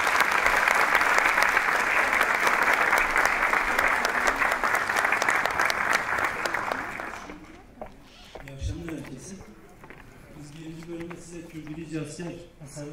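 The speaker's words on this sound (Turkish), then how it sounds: "Alkışlarınızla şefimiz Ferhat Kılıçak sizler." Audience applause at a Turkish classical music concert, welcoming the conductor: loud, dense sustained clapping for about seven seconds, then fading out as low hum and stage noise remain.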